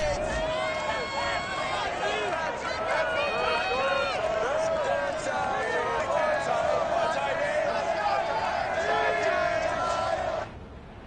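Stadium crowd cheering and roaring continuously in the Madden NFL 22 football video game before a Dolphins vs Titans game, a dense, loud wall of voices and shouts that holds steady for about ten seconds before cutting off.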